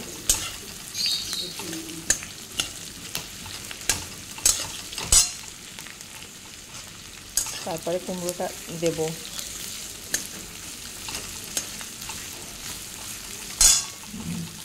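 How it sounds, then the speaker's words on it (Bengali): Onion fries in a pan on a home stove, a steady sizzle broken by sharp scrapes and clinks of a spatula stirring against metal, with someone briefly speaking partway through. "পেঁয়াজটা একটু ভাজা ভাজা হবে"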